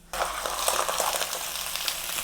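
Garlic and chili peppers hit hot butter in a pan and burst into loud, close, continuous sizzling that starts abruptly and holds steady.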